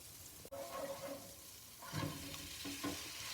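Ginger garlic paste fries in oil in a hexaclad pan with a soft, low sizzle, one sharp tap near the start and a few quiet stirring swells, no talking.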